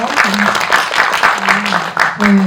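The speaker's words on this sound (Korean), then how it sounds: "박수 부탁드릴게요" Audience applause at a film Q&A screening event, rapid clapping mixed with talking and voices over it, fairly close and loud.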